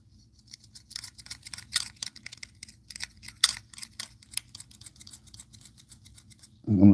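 A loose folding knife pivot rattles as the blade is worked back and forth, making dense, close clicking and clattering bursts in an irregular rhythm, followed by a short low thump at the end.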